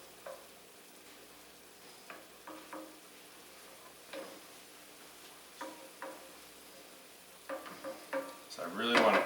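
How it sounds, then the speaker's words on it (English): Onion and garlic cook in a pan for onion gravy, giving a faint, steady sizzle broken by occasional scraping stirs that grow louder and busier near the end. "I really want to cook the onion and garlic till they're like non-existent."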